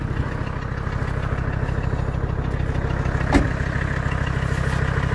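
Mercedes OM617 diesel swapped into a Toyota 4Runner and running on biodiesel, idling with a steady, low, rough clatter, close and continuous, with a brief higher sweep partway through.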